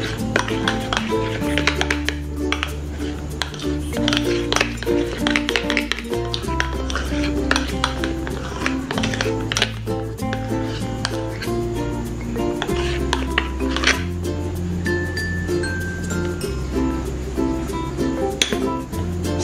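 A spoon or whisk clinks and scrapes against a bowl as cake batter ingredients are stirred. Rhythmic clatter runs over steady background music with no talking.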